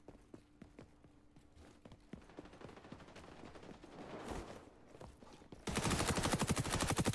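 Rapid shotgun and automatic gunfire from the online shooter game XDefiant, scattered sharp shots building into a loud, dense burst of fire near the end.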